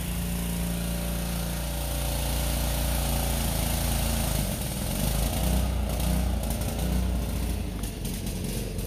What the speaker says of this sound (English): People are mowing lawns.